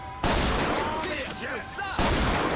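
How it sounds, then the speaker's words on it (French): A gun fires in BioShock Infinite, two loud sharp blasts about two seconds apart, each followed by a ringing tail and game effects, with a faint voice in between. "Appuie sur 1 pour tirer avec une arme."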